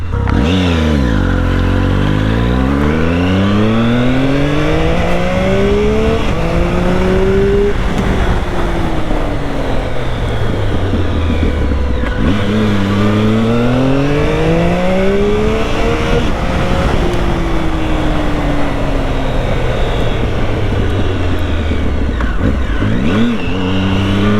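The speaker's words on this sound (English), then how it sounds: "I hope you can hear like the exhaust, because I barely can." A car's stock exhaust under repeated acceleration, the engine note rising steadily through several long pulls with pitch drops at each shift, loud and continuous from inside the car with no talk over it.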